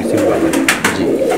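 A black flying pigeon kept for pigeon racing gives a short, soft cooing call, close and clear, lasting barely over a second.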